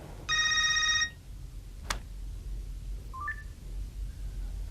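A telephone rings in one short, loud electronic burst, followed by a sharp click and a couple of soft beeps against a quiet room background.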